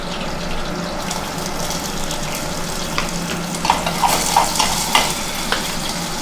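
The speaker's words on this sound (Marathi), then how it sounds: "बटाटे फ्राय झाल्यानंतर मिरची टाकून घ्यायची" Green chillies go into a pan of fried potatoes, and a loud, continuous sizzle follows, with scattered crackles and spatters building toward the end.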